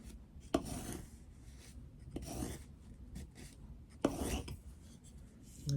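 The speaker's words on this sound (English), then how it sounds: "I'm just holding the blade against the edge of the guide to try and give as vertical a cut as" A blade drawn through soft clay along a straight guide while cutting out pottery house pieces, giving soft scraping rasps in a few separate strokes, close and moderately quiet.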